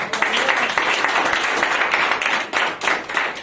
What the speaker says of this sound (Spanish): El aplauso a Dios